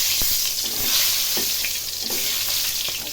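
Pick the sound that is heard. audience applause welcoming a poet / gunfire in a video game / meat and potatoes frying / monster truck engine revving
meat and potatoes frying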